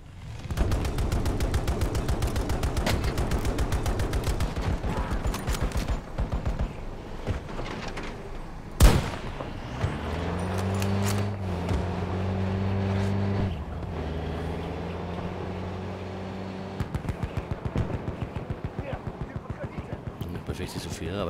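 Gunfire in Battlefield 2042: bursts of rapid automatic fire and a sharp loud blast, with vehicle engine hum in between and someone talking over the action.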